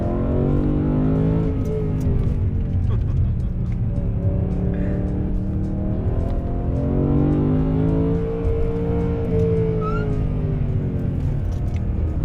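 A BMW M3 E92 drives through corners, its engine a continuous loud rumble that swells and eases as it accelerates and revs, close up with no talking.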